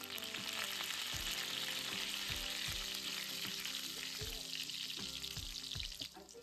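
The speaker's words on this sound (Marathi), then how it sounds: "आता कढीपत्त्याचे 5-7 पाने टाकते" Curry leaves hit hot oil with a pan-fried paste of garlic and ginger, a loud, close, continuous sizzle with crackling spatter that eases slightly at the very end.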